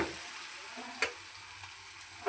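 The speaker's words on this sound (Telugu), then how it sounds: "ఇదైతే కొంచెం బాగా వేగింది" Sweet corn curry masala fries in a pan with a soft, steady sizzle, broken by a sharp clink near the middle and another light tap at the end.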